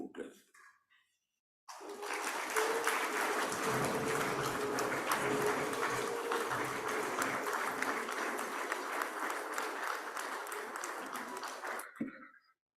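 An audience at an agribusiness food security conference applauds an honoured guest speaker: a sustained burst of many hands clapping, loud and dense for about ten seconds, beginning abruptly after near silence and stopping just as sharply.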